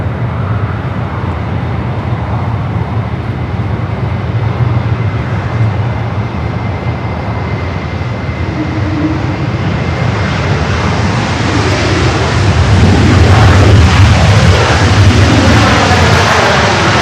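Austrian Airlines Boeing 777 landing at LAX, a loud sustained jet roar that swells near the end as the aircraft passes close overhead.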